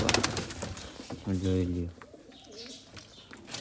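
Peacock-feather pigeons coo once, a short soft call close by, between bits of people talking, with faint chirps in the background.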